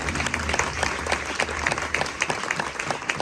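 An audience at a Pakistani pastor's church sermon claps together, with rapid, continuous applause and crisp individual claps over a low murmur, fairly close and steady throughout.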